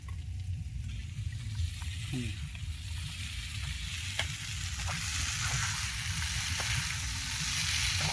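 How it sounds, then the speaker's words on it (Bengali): Ghugni curry sizzling and frying in a pan at an outdoor campsite, a steady bubbling crackle with occasional stirring scrapes and faint background murmur throughout. "আমাদের আনলিমিটেড তরকারি তৈরি হচ্ছে, যেটা আমরা পরোটা দিয়ে খাবো"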